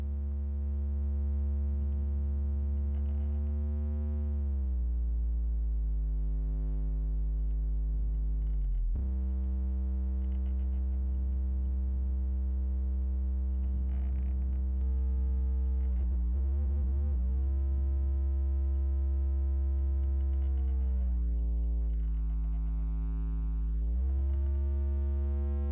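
Modular synth VCO patched through feedback ring modulation in VCV Rack gives a sustained, harmonic-rich buzzing drone that holds steady tones and then glides in pitch several times, with brief dips and metallic sideband shimmer, loud and alone.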